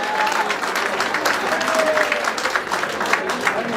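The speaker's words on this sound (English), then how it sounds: "Let's have a round of applause for the students out here." Students applauding during a director's talk to a student audience, a dense, steady wash of many hands clapping close by, sustained for several seconds without a break.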